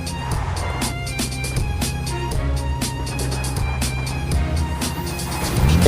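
A game vehicle drives in a Free Fire-style battle royale match, a steady engine drone with rolling road noise running continuously throughout, loud and close, growing slightly at the end.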